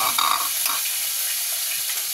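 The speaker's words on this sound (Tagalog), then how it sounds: "Magluto na tao. Corn beef." Corned beef stirs and sizzles in a frying pan, a steady hiss of frying broken by a few scraping stirs near the start, close and fairly loud with no talking.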